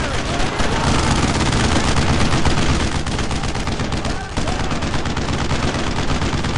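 Sustained suppressing gunfire in the World War II video game Brothers in Arms: dense, loud, continuous bursts of rifle and machine-gun fire with no letup, and faint shouted voices buried underneath.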